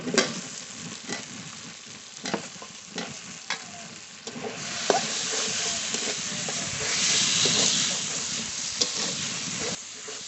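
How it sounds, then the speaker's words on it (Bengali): Fried potatoes cooked with spices and oil sizzle in a pan as they are stirred, a steady close frying hiss with intermittent scraping stirs, swelling louder and brighter midway, with no talking. "আলু ভালো করে কষিয়ে নিয়েছি"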